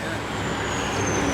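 Air suspension bags on a vehicle airing out, releasing a loud, continuous broadband hiss of escaping air that stays close and steady throughout the short stretch.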